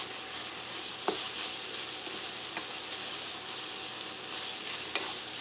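Vegetables sauté in a pan for a vegan tofu scramble, making a steady, bright sizzle up close. A few sharp clicks of a utensil against the pan break through the frying.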